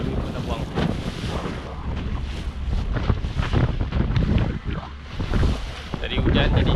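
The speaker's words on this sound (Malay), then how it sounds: "Tapi masih ada angin lagi ya." Steady, gusting wind roars across open sea after a storm and heavy rain, around a fishing boat out netting, with water wash and boat noise continuous and fairly loud throughout.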